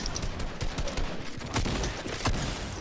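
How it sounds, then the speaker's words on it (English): A dragon breath shotgun fires in Fortnite Battle Royale, a rapid cluster of sharp blasts, fairly quiet and without talk. "I kind of shot my dragon breath shotgun"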